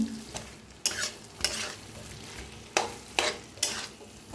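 Ridge gourd is stir-fried in a pan with dahi, a low steady sizzle punctuated by several sharp, close scraping strokes of the spatula every second or so.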